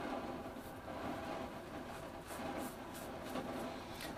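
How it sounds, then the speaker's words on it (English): Rain patters steadily on a skylight indoors, a continuous broadband hiss with faint irregular ticks running the whole time, at moderate level and with no talk over it. "Sorry about that rain noise on my sun, on my skylight there."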